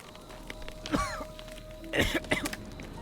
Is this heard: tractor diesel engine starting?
no